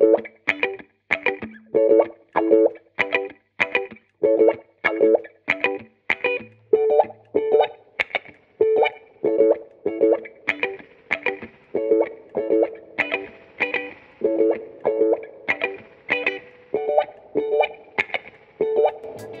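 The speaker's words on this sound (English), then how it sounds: "this compact studio legend oozes the typical rich, bouncy, an unpredictable vibe of a true electromechanical reverb" Rhythm guitar strummed in steady, regular chords through a VREV-666 spring reverb emulation, each stroke followed by a bouncy, springy tail; loud and alone with no talk, repeating evenly for about twenty seconds.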